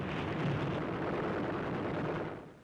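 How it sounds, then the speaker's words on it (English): A bomb bursts in a near miss during Second World War combat, a loud sustained roaring blast with heavy rumble that fades at the end, without speech. "A near miss by a Jap bomb."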